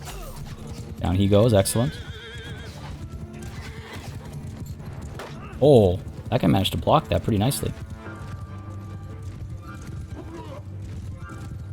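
Horses neigh and whinny in a Mount & Blade II: Bannerlord battle, with loud bursts near the start and middle over clip-clopping hooves, while someone comments over the action.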